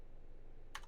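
A short burst of several quick keystrokes on a computer keyboard, close and crisp, following near silence.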